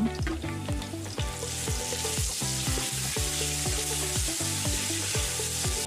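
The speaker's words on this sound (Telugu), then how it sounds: "అల్లం వెల్లుల్లి పేస్ట్ వేసుకుందాం." Ginger garlic paste sizzles and spits in a hot pan, a loud, continuous crackling fry with periodic scraping strokes as it is stirred, close up and without speech.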